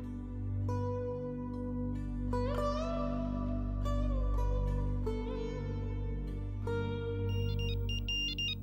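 A phone ringtone plays a repeating melodic tune at a steady moderate level in a quiet room, its notes rising and falling in a looping pattern.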